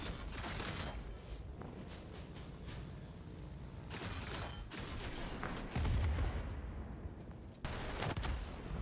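In World of Warplanes, a heavy fighter's bombs hitting a ground target sound as rough bursts of explosions and gunfire-like crackle. Several louder booms rise above a continuous engine and battle din, with no talking.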